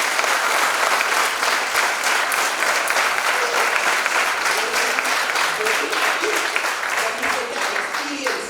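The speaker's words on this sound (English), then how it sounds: "Give them a big round of applause." A lecture audience claps for guest speakers in a loud, continuous round of applause. Dense, even hand claps fill the whole stretch, with a few scattered voices mixed in.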